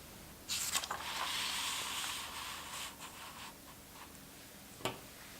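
A Leonardo Momento Zero fountain pen nib glides across paper in a soft, continuous scratchy rub lasting a few seconds, followed by a couple of brief taps, close and faint, with no one speaking.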